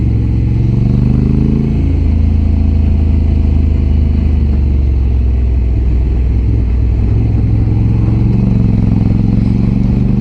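Loud continuous engine drone and wind roar from a Honda Africa Twin Adventure Sports motorcycle ridden along a country road, with engine pitch rising and falling as it shifts and accelerates.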